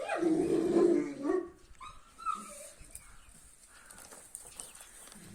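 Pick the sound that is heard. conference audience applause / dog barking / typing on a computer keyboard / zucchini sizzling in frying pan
dog barking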